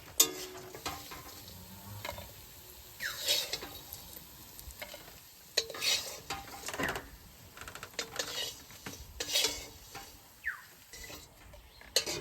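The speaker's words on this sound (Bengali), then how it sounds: "মাছটা দেখো সুন্দর করে আমি মচমচে করে ভেজে নিচ্ছি" Fish frying until crisp in hot oil, a steady sizzle broken by clattering stirs and turns of a spatula in the pan, close and moderately loud with no talk.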